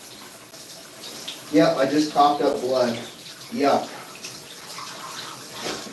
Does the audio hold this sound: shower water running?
yes